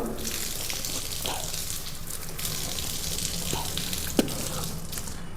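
Water runs steadily from a tap while someone rinses mouth and nose during wudu ablution. The hiss is close and continuous, with a sharp knock near the end.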